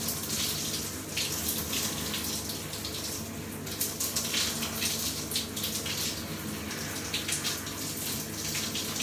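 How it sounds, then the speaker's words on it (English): Hot water runs steadily from a shower unit, a continuous hissing spray that stays at an even level throughout with no voices. "Just allowing the water to run its natural course, just flowing down the unit."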